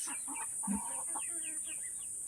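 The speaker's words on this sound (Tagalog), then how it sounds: "tumitilaok na yung silky natin" A Silkie rooster crows amid clucking hens, its drawn-out call rising and falling over steady background noise.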